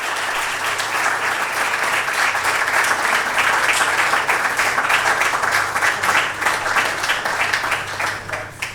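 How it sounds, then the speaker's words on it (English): Sustained applause from an audience at an opening ceremony, welcoming Professor Michael Ofori. Dense, loud clapping continues at a steady level for nearly nine seconds and eases slightly at the end. "Let us meet him with a round of applause."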